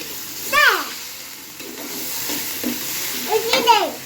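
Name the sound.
spices added to a frying pan, sizzling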